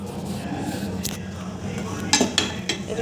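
A spoon stirs khichdi with mustard seeds and salt in a pot, scraping softly before several sharp metallic clinks land near the end.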